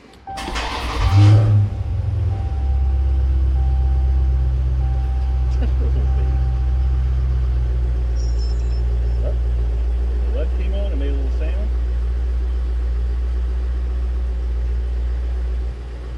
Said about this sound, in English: Please start the car.